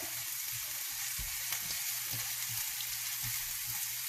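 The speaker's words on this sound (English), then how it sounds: "then I'm gonna throw in the lentil with the vegetable. You want to stir fry it a little bit before you adding the stock." Lentils and vegetables stir-fry in a pan, giving a steady close sizzle with soft scraping stirs and faint crackles throughout, quiet and without talk.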